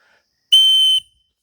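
A small survival whistle clipped to a carabiner in a woods kit gives one sharp, shrill blast of about half a second, loud and close, alone with no talking.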